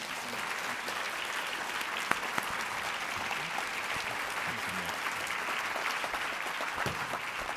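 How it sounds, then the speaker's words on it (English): A live audience at a speaker series event gives speaker Greg a round of applause, steady dense clapping that holds at an even level for the whole stretch with no voices over it. "Let's give Greg another round of applause."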